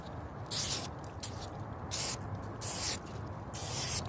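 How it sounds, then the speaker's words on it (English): A spray product hisses onto plastic car headlights in four short bursts about half a second each, close and fairly loud, separated by brief quiet pauses. "So we're gonna spray this."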